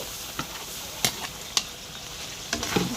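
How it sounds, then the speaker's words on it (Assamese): Chicken pieces frying in a pan until brown, a steady sizzling hiss broken by a few sharp scrapes or clinks of a spatula, close and moderately loud. "এইখিনি ভাজিছো ব্রাউন হোৱালৈকে"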